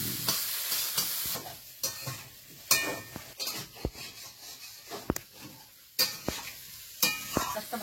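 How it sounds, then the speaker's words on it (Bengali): Fish frying in a pan in a home kitchen, with a steady sizzle broken by sharp scrapes and clinks of a spatula stirring against the metal, close and fairly loud. "মাছটা ভালো করে ভেজে নিই।"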